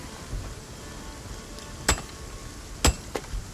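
Hammer blows at a forge in the video game ASKA, two sharp metallic strikes and a lighter tap spaced apart over a quiet background hum.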